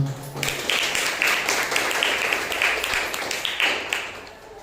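A church congregation applauding during a Sunday worship service, a steady wash of clapping hands held for several seconds at moderate loudness, with faint voices mixed underneath.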